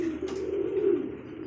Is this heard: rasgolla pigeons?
yes